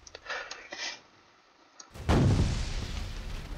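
Tanks firing in the Kaiju Universe game: after quieter distant pops, a sudden loud, heavy blast erupts and rumbles on, close and sustained.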